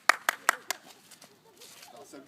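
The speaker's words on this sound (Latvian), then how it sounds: "O! Aplausi." A few people clap hands outdoors during a child's bicycle lesson: four sharp, close claps in quick succession, followed by a fainter one and quiet talk.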